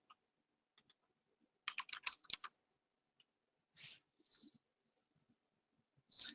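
Keyboard keys pressed while a receipt number is entered into an inventory system, with faint scattered clicks and a brief rapid burst of taps, separated by quiet gaps.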